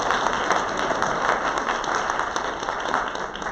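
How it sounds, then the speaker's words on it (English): A church congregation applauds together in a hall, a full, even round of clapping from many hands that holds steady for several seconds. "And let the record show that even Gordon was applauding."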